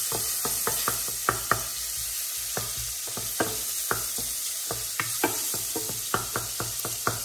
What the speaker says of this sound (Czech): Teď do toho výpeku dám slaninu. No a nechám ji pěkně rozpustit.